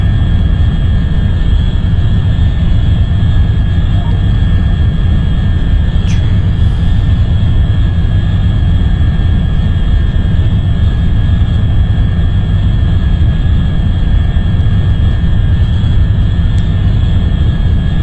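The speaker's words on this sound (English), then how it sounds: "So I'll hit some scram jets." Scramjet engines roaring in a space flight simulator game, a loud, steady, unbroken engine drone with a high whine running throughout, heard alone without any talk.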